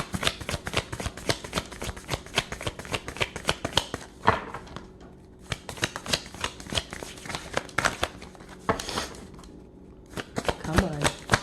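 Tarot cards being shuffled in rapid riffling bursts, close and crisp, with brief pauses between runs and a voice speaking briefly near the end.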